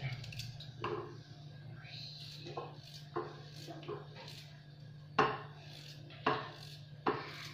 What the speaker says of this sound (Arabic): راح نقطع زروديا بهذا الشكل هكا دائري